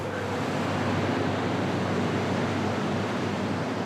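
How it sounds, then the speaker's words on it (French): Choppy waves and strong currents on the Seine in Paris make a steady, loud wash of rushing water that holds evenly for the whole stretch, with no voices. "Il y a énormément de vagues, énormément de courants"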